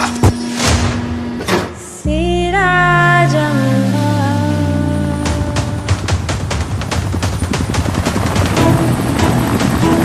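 Film-scene helicopter: a loud, close rotor drone starts abruptly after a brief noisy opening, its whine sliding down, then settles into a rapid, continuous chopping beat that fills the rest of the scene.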